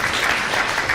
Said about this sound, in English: So another round of applause for you and for you and for you.